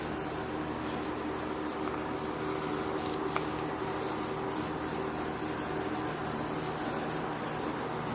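A cloth wipes oil along the wooden fingerboard of a Rickenbacker 4004 bass, producing a soft, continuous rubbing whisper with faint rhythmic strokes, close and quiet over a low steady background hum.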